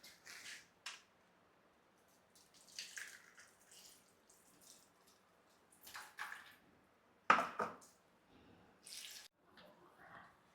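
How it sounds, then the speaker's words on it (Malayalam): Second-extract coconut milk poured over pieces of mango for an Angamaly-style mango curry, heard as soft intermittent liquid trickles and splashes in a quiet kitchen, with one louder splash near the end. "രണ്ടാം പാൽ ഒഴിച്ചിട്ട് കഷ്ണങ്ങളെല്ലാം അതിനകത്ത് ഇടുവാണേ"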